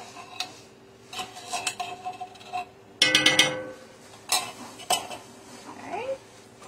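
Spoon scraping and clinking in a pot as canned cream of mushroom soup is stirred into hamburger steak gravy, a few bursts of close metallic taps and scrapes separated by short pauses.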